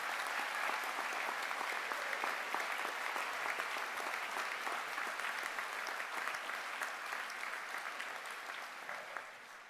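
Steady applause from a large audience at a university graduation ceremony in Stirling, a dense, continuous patter of many hands clapping at moderate distance, slowly easing toward the end.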